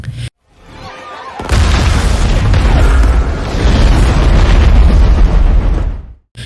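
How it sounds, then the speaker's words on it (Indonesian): After a brief quiet, an airplane explodes amid a gunfight in a massive blast, a deep booming roar that rumbles on for several seconds before cutting off. "akhirnya di sela baku tembak pesawat itu meledak"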